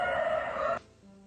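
A fighting rooster crows once, loud and close, a strong sustained call that cuts off abruptly, leaving a faint low hum behind it.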